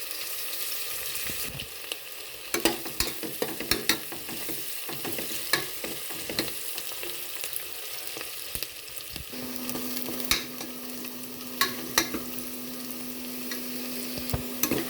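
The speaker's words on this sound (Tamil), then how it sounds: "வெங்காயம் வந்து நல்லா ப்ரௌன் ஆகிற வரைக்கும் நல்லா வதக்கிக்கலாம்" Onions frying and being stirred in a pressure cooker for vegetable biryani, with a steady sizzle and repeated scraping clicks of a spoon against the metal, and a hum entering partway through.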